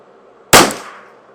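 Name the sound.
Custom Shop Ruger 10/22 rifle shot with Eley Contact ammunition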